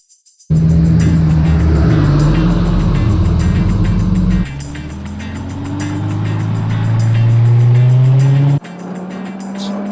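A Lamborghini fitted with a Fabspeed X-pipe muffler exhaust starts up and revs loudly close by, a deep roaring note that drops, climbs steadily as the engine winds up, then cuts back sharply.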